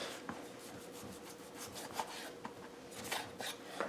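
Knife trimming fat from a raw beef brisket on a board, a continuous series of soft scraping and rasping strokes, close and steady, with no talk.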